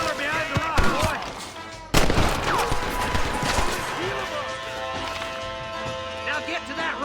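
Gunfire in the Red Dead Redemption video game: a dense, loud volley of shots with a sharp burst near two seconds, continuing as rapid repeated cracks over background game sound and voices talking.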